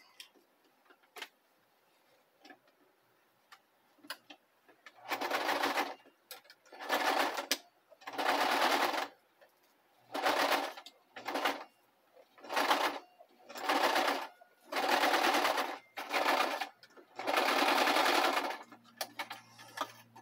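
Sewing machine stitching paper scraps for a junk journal, running in about nine distinct loud bursts of rapid mechanical whirring separated by short pauses, close up with no talking.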